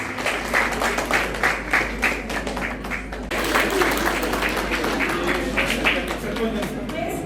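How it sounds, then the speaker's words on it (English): Sustained audience applause fills a school achievers' award ceremony hall, dense steady clapping from a large crowd with a brief dip midway before resuming at full strength. "Let us welcome with heartfelt applause"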